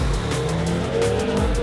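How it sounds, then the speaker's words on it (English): A Toyota MR2 launches from a standing start on a race track, engine roaring loud and steady with tyre squeal mixed in as it pulls away. "So with some tyre squeal, the MR2 got off to an incredible start"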